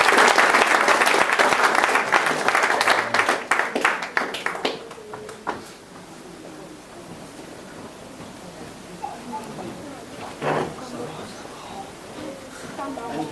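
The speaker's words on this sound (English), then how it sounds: "Round of applause for Norma." Wedding guests break into applause during the speeches, a loud dense burst of clapping that thins into scattered claps and fades, followed by quieter room murmur and a few faint claps near the end.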